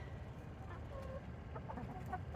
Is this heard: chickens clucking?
yes